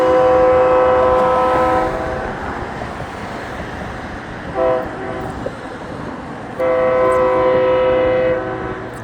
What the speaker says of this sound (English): It'll blow its horn again at that little crossing there